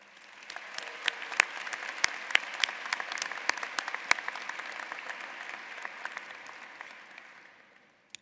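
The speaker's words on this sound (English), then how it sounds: "How about a round of applause for them?" A commencement audience in Ann Arbor applauds family and friends, a broad steady wash of many hands with sharp individual claps standing out, building quickly and holding for several seconds before fading away.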